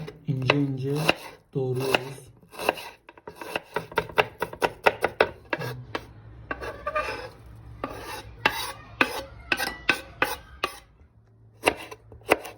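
Knife chopping an onion on a board, rapid repeated thuds with scraping and crunching, close and steady, broken by brief pauses.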